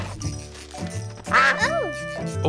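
A cartoon duck gives a few nasal, wobbling quacks alongside a cheerful animated soundtrack, with a character talking before the quacks.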